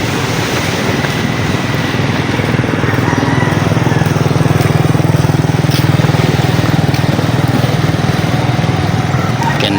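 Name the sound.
Yamaha motorcycle engine running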